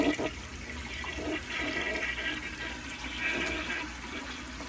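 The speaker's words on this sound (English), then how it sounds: "This toilet does kind of take a long time to fill, so I will probably cut out the clips of it filling, but here is a flush." A 1987 Kilgore Aladdin toilet flushes with a steady rushing swirl of water lasting several seconds, moderately quiet and close, with no voices.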